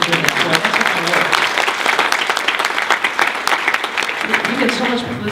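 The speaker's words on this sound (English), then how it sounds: "let's do a round of applause for the girls who did that" Sustained applause from an audience at a Girl Scouts annual meeting, dense clapping from many hands, fairly loud and close, continuing throughout with some crowd voices mixed in.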